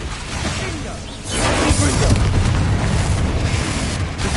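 Bombarda spell blast in the Hogwarts Legacy video game, a heavy booming burst that swells after a second into a dense, loud rumble with crackling debris, sustained to the end.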